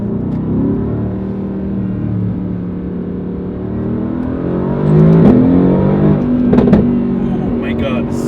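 Mercedes-AMG GT R sports car engine revving loudly nearby, a steady deep drone that swells into two sharper revs near the end, with faint talking over it.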